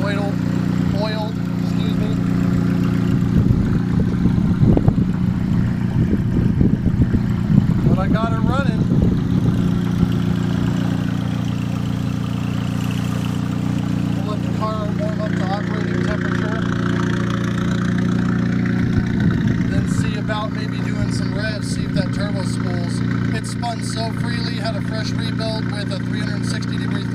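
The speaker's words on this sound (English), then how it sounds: "Just idling the car up, letting everything get oiled." A turbocharged car engine with a T3/T04B 57-trim turbo idles rich and cold on first startup, a steady low continuous rumble throughout, with some voice-like sounds over it.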